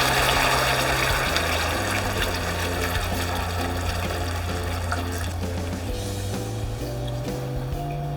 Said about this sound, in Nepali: पानी राखिदिउँ